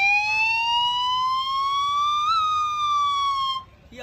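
A police siren sounds one long, loud, steady wail that climbs slowly in pitch and then falls off, stopping abruptly after about three and a half seconds.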